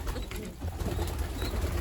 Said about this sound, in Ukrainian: Це голубенятко найстарше.